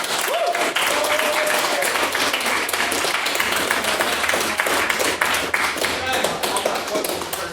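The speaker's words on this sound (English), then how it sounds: "could I please ask the House to give him a large round of applause?" A debating house audience gives a sustained, dense round of applause, many hands clapping loudly and evenly throughout.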